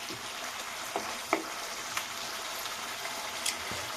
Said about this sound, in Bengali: এর উপর ছড়িয়ে দিচ্ছি আর একটু অল্প সর্ষের তেল নিয়ে কষাবো